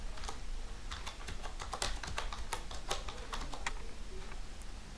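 Steady computer keyboard typing during data entry work, a continuous run of quick, irregular keystrokes at moderate level with no speech.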